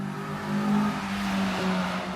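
A car driving fast through a residential neighborhood, heard from a distance as a steady engine roar that rises and falls slightly, with no talk.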